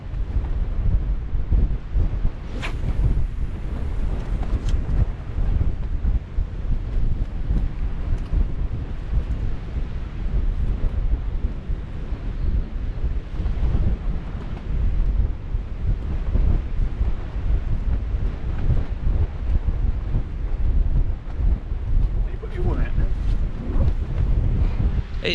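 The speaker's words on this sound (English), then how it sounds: "It's blowing that much of a gale. Wind's about 13 mile an hour today, but then it's gusting to 20" Strong gusting wind on a sea-fishing shoreline roars across the microphone for the whole stretch, loud and continuous, with buffeting surges and a low rumbling bed under it, and no talking.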